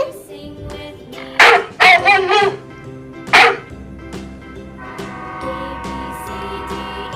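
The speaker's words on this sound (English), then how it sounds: "D for dog." A dog barks in a kids' alphabet song: several loud, close barks in short bursts over a sustained musical backing.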